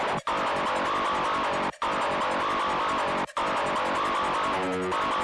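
A printed Output Arcade sample with some 500 Hz cut plays as a dense, buzzy sustained loop with three sharp brief dropouts, ending on a tonal flourish, and no talking.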